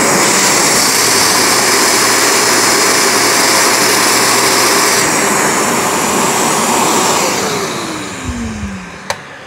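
A Shark StainStriker HairPro PX251 portable carpet cleaner runs with a loud, steady motor and suction whine that holds for about eight seconds, then winds down with a falling pitch and a couple of faint clicks at the end.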